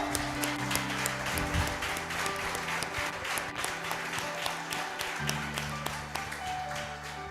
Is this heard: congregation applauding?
yes